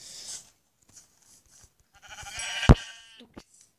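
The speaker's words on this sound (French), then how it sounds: "Donc là-bas il y a un mouton." A sheep bleating in a survival video game, a wavering bleat rising in the middle after a few faint blips, with scattered quiet ticks around it.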